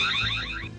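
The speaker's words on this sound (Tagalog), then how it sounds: "Wala nila panumbalinga ang pagtingog sa alarm." A store's burglar alarm rings during a robbery, caught on CCTV: a loud, continuous electronic wail with sweeping, warbling tones that hold steady, close and unbroken, with no voices present.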